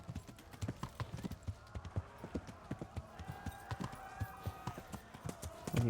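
Hoofbeats of a horse in a video game thud in a quick, uneven clip-clop rhythm throughout, moderately close, with a faint tonal hum and soft background noise beneath.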